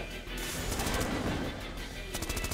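Weapon gunfire in the video game Titanfall, a dense stretch of rapid shots and crashing impacts, with a quick burst of repeated shots near the end, moderately loud.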